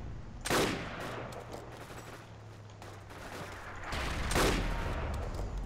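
Gunfire in a military video game, with a couple of distinct loud bursts over a steady low rumble, spaced a few seconds apart and heard alone without talk.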